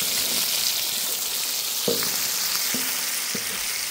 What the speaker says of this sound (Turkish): Bakın nasıl güzel kızardı etler de